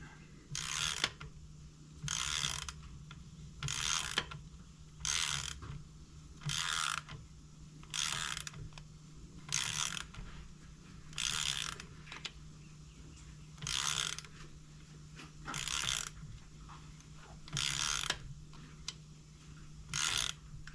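A ratchet wrench tightening a rocker arm nut on a 454 big block engine clicks in about a dozen evenly spaced bursts of rapid ratcheting, close and crisp, with quiet pauses between strokes and no talking.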